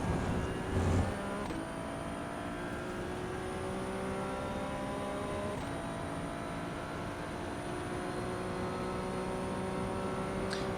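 Ferrari 296 racing car engine in the iRacing sim at Monza, a steady loud sustained drone with rising harmonic lines as it accelerates, a couple of brief shifts or bumps along the way, no voices.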